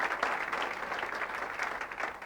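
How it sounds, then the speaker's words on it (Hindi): Applause from an audience welcoming chief guests at a business event, soft and somewhat distant, a brief steady patter of many hands. "तो एक बार इन सबके लिए जबरदस्त ताली होना चाहिए"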